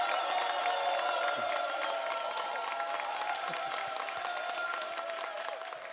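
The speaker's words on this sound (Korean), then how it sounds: "박수 부탁드리겠습니다" Church congregation applauds as the pastor is welcomed, a moderate, even clapping spread across the room under a sustained musical tone, fading slightly at the end.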